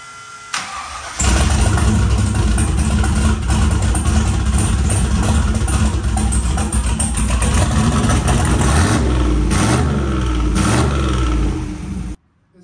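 A Chevy turbo V8 engine turns over and catches, then runs loud and steady close by for about eleven seconds with a deep rumbling idle before cutting off.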